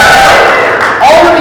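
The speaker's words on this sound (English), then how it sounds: "All of you that clapped, thank you so much." A comedy show audience at a circus-style venue cheers and whoops loudly in a brief, dense crowd burst, with shouting voices on top and little distinct clapping.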